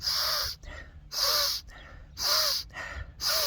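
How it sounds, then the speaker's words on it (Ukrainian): Quick, sharp inhales through the nose as a breathing exercise, four forceful sniffing gasps in a steady rhythm, close and clear with brief quiet gaps between them. "Носом вдих робимо так, щоб нос аж змикався."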